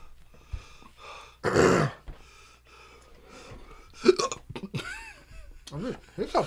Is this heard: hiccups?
yes